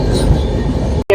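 A passenger train running between Kolkata and Parasnath, a steady loud rumble of the carriages close by for about a second, broken by a brief dropout near the end before the running noise resumes.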